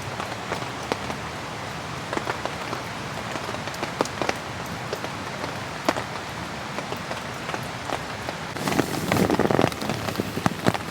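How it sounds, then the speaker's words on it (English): Rain falling on a tent during winter wild camping, a soft continuous patter with scattered individual drop taps, growing denser and louder near the end. "As you can hear, there's some nice raindrops coming down."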